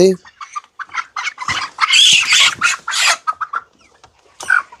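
Broiler chickens on a poultry farm cluck and squawk in agitated bursts close by, with a few sharp cries overlapping.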